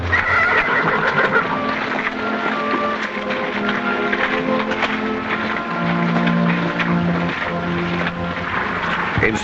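A horse neighs and whinnies in a long, wavering cry amid a busy outdoor scene in an old Western setting, with faint hoof clops and background noise underneath.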